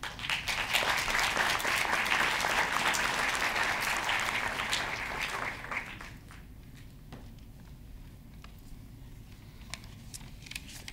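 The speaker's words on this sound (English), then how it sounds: "we would like to have a warm round of applause for Michael." An audience at an architecture lecture gives a warm round of applause for a professor, dense, full clapping for about six seconds, then it fades to scattered claps and soft rustling.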